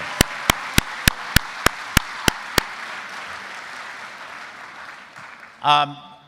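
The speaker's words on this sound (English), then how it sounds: "give yourselves a round of applause for a great summer" A summer program closing ceremony audience applauds; nine sharp, evenly spaced claps stand out close by over a softer wash of clapping that thins out, then a voice begins speaking.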